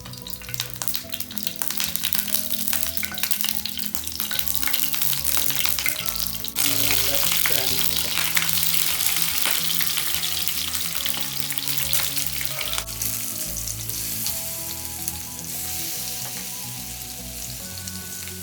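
Curry leaves fry in hot coconut oil in a pan for a yam fry, a loud continuous sizzle and crackle with brief bursts of stirring, close and steady throughout without speech.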